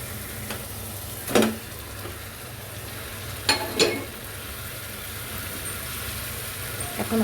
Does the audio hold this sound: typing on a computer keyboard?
no